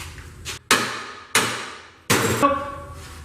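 Three loud hammer blows strike a welded copper piece clamped in a vise, each a sharp, close impact followed by a short ringing decay, spaced well apart.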